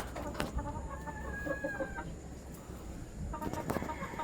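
Raptor-breed hens and a rooster cluck in a farm breeding pen, with sharp clucks and squawks at the start and end and a brief drawn-out call in the middle, close by and fairly quiet.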